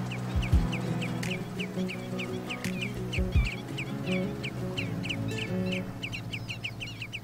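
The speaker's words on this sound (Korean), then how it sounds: "고무장갑을 낀 듯 긴 다리가 인상적인 이 녀석은 장다리 물대새입니다." A black-winged stilt calls from a flooded rice paddy in Hwaseong wetland during May planting, repeating sharp, evenly spaced notes for several seconds over a low steady hum.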